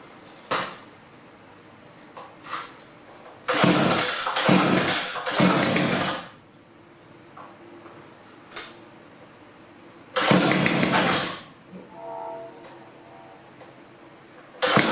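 A Chinese-made Lumik 82cc chainsaw with a 24-inch bar is pulled to start on choke, with loud bursts of engine noise between quieter clicks and handling sounds, plus a short rumble toward the end.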